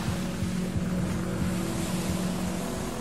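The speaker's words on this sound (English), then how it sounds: "we now turn on the engine." Boat engine in the Battlefield: Bad Company 2 video game, a loud steady droning motor with rushing water and wind, continuous and close throughout.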